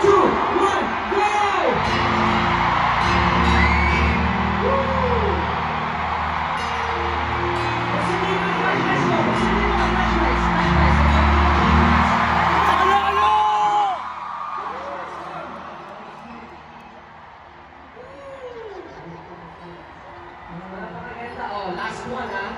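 Large concert crowd at a world tour kickoff shouting back on cue, a loud sustained mass of yells and whoops that drops off sharply, then swells again near the end.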